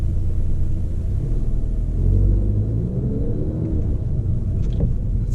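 Car with a tuned DSG transmission pulling away from a standstill, a low engine rumble that swells as it moves off and then settles into a steady drone, heard from inside the cabin.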